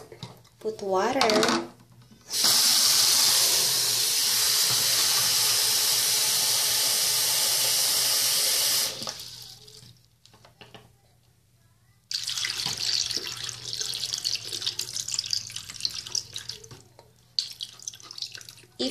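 Water pours and splashes into an indoor bamboo fountain in a long steady stream, then stops; a second, rougher stretch of running water follows, with a voice speaking briefly in between.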